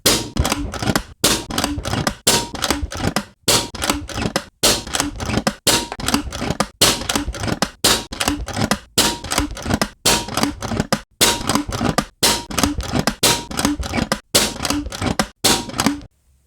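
AGT Uragan2 air rifle firing a long string of sharp, snappy shots at a steady pace of roughly one per second, about fourteen loud close cracks with short gaps between them.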